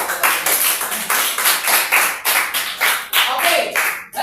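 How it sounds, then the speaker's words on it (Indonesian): Classroom applause from students clapping their hands after group presentations, close and lively with quick uneven claps over several seconds and faint voices mixed in. "Tepuk tangan sekali lagi."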